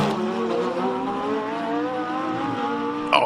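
A Lamborghini race car at a hillclimb holds a steady, loud engine note with clear harmonic tones, then a brief sharp rise near the end.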